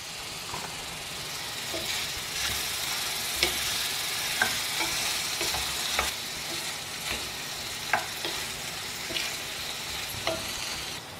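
Ridge gourd chutney ingredients sauté in a pan with a soft, steady sizzle, punctuated by regular light taps and scrapes of a spoon stirring, fairly quiet and close.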